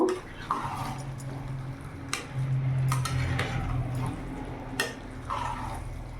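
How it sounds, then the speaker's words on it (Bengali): A spoon scrapes and knocks against a pot while stirring a Bengali muri ghonto of katla fish head and rice, with sporadic sharp clinks and soft scraping over a low hum from the stove. "একবার নাড়াচাড়া করে নেব"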